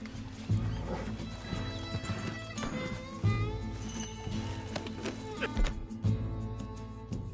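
Horse hooves clip-clop at a steady pace in a PS4 video game, with a horse whinnying over a layer of game music.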